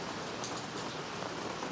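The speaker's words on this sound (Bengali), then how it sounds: "পরে আর হইতেছে প্রচুর পরিমাণে বৃষ্টি" Heavy rain pouring steadily, a dense continuous hiss of drops striking surfaces nearby with no voices over it.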